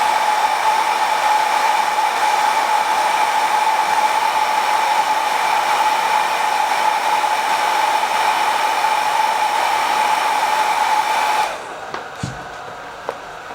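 A heat gun warms vinyl wrap on a motorcycle panel, blowing with a loud, steady whining hiss close by for about eleven seconds before switching off, leaving a few faint handling taps.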